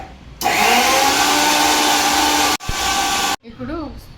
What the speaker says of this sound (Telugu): ఇప్పుడు ఇవి మిక్సీలో వేసుకుందాం.